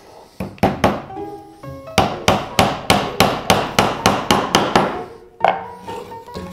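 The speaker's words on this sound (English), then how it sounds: "Hammer it in." A hammer drives a nail into wood, a few uneven taps then a quick steady run of about a dozen sharp blows, with one last hit after a pause.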